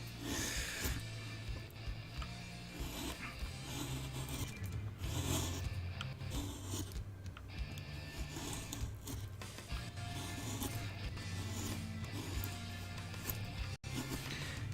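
A chisel carves wood on an owl figure with continuous close scraping and rasping strokes, steady and fairly loud throughout.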